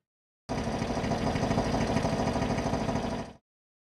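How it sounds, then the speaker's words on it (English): An oil pump sample, pitch-shifted down into a growling tank engine, runs as a steady, rhythmic mechanical chug for about three seconds, alone, then cuts off. "taking the sample of an oil pump that I had and pitch shifting it down to make it sound a little more meaty, a little more angry"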